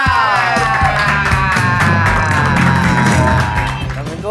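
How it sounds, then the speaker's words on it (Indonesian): A studio audience at a comedy show greets comedian Ali Akbar with loud cheering, whoops and clapping, mixed with a bright musical stinger that carries through and fades near the end. "Beri tepuk tangan untuk Ali Akbar."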